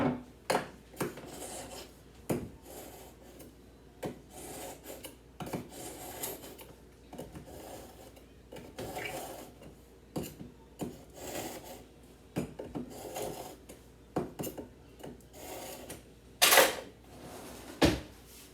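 A kitchen knife is drawn across a sharpener in a series of quick, separate rasping strokes with short pauses between them, close by and fairly loud, with no talk.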